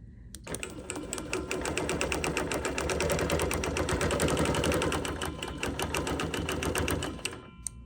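A quilting sewing machine runs steadily, stitching in the ditch along a ruler for about seven seconds, a fast even needle rhythm with motor hum that starts and stops abruptly, close and fairly loud.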